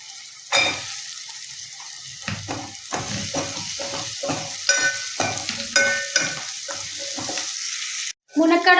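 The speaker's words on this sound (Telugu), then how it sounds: "మునక్కాడ ముక్కలు అయితే మంచిగా నూనెలో ఫ్రై చేసుకోవాలండి." Pieces of drumstick (moringa) sizzle and fry in oil for a tomato curry, with turmeric and ginger-garlic paste in the pan; a spoon stirs them in repeated scraping strokes over a steady close sizzle, with no talk.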